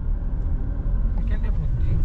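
A car crawls slowly along a rough, off-road-like rural road through mango orchards, a steady low engine rumble and bumping close by for about two seconds, with voices faintly in the background.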